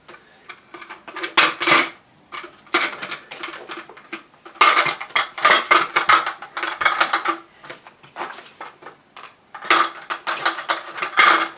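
A folding telescopic aluminium ladder being handled, heard as several bursts of close metallic clanking and rattling separated by short pauses, with no talking.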